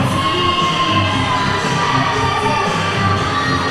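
Crowd cheering and shouting at a Borracho Pro wrestling show on a Sunday afternoon as wrestler Zeke Rose steps into the ring, loud sustained roar with whoops, no speech.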